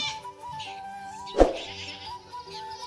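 A goat on a farm, recovering from a sudden seizure and bloating, bleats once, sharp and close, over a steady mix of other animal and background sounds.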